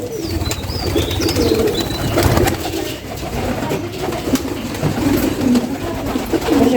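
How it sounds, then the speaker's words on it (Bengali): Pigeons coo close by in a loft with young chicks. Soft, repeated throaty calls overlap one another with occasional light chirps and rustling throughout. "এটা মুখী এটা কবুতর"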